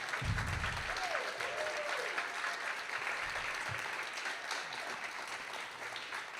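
An audience at a concert applauds for Marshall Rosenberg, a steady dense clapping heard from a distance with a few low thumps and a brief whistle near the start.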